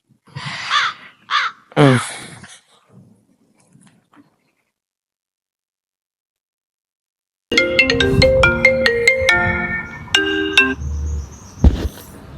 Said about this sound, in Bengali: নাসির ভাইয়ের একটা ফোন দেই